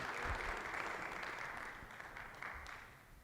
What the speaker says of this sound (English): Let's give a warm round of applause for Lewis.